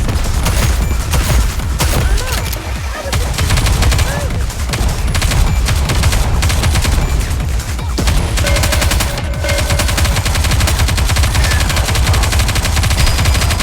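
Dense, continuous gunfire from the video game NIKKE: Goddess of Victory, loud rapid automatic shots and bursts layered together without letup, with game voices occasionally underneath.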